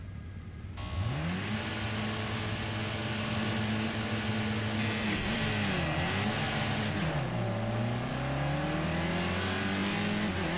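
A race car engine in Project Cars 2 at the Nürburgring revs loudly and continuously, pitch climbing and holding through gears, dipping twice as it shifts down under braking, with no talk over it.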